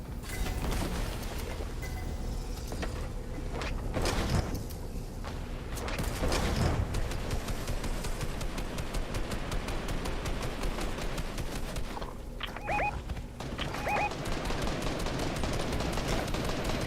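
Gunfire crackles through a competitive first-person shooter match: repeated distant bursts and single shots, with mechanical clicks and creaks scattered through a continuous busy game soundscape.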